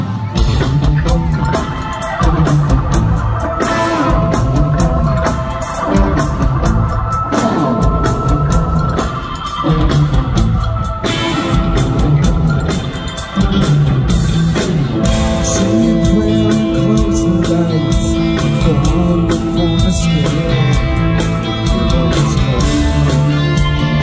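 A live rock band performs a song at a Las Vegas concert, playing loud and dense with drums driving steadily, and the crowd shouts and whoops over it.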